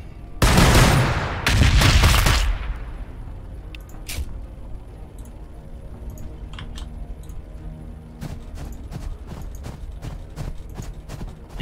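Troops open fire in Warhammer 40k Battlesector: two loud, dense bursts of massed gunfire up front, followed by scattered sharp shots and cracks spread over the rest of the clip.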